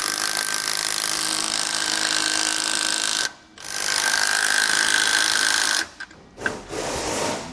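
Ratchet tightening the bolts of a Roadmaster rear anti-sway bar on a 2015 Ford F-53, a loud continuous rapid clicking and rasping that stops twice briefly before resuming close by.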